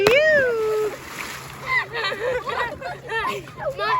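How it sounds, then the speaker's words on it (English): Rocks are thrown into water and land with a big splash, followed by smaller splatters, while children and adults chatter and call out throughout. "My big splash!"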